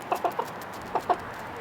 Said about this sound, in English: 12-year-old Jack Gillum is the proud owner of 3 chickens, and they live a luxurious life in his mom's backyard